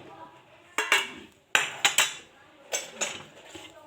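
Spices being mixed into Indian gooseberries (amla) in a bowl for pickle, with a utensil striking the bowl in several sharp clinks and scrapes in irregular bursts, close and fairly quiet.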